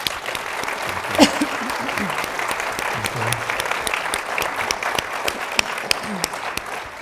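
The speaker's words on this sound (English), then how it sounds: "please join me in a round of applause for our speakers" A seated conference audience applauds the panel speakers at the close of a session, a steady wash of clapping hands that holds throughout.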